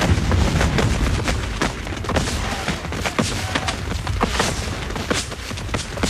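Cannon fire in an American Revolution fort siege, heavy booming reports landing in irregular succession over a constant rumbling battle background.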